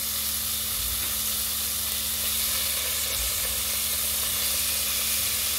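Filet mignon sears in margarine in a pan with a steady, loud, close sizzle and hiss that holds throughout, no talking.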